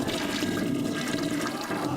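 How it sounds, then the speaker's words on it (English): A toilet flushes in one continuous rushing, gurgling swirl of water, close and loud, with no voices over it. "Like the flush noise"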